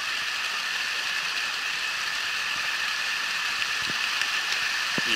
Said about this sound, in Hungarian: itt az egyik zúgó, ami aztán itt egy ilyen rézsutos vízesésben ér véget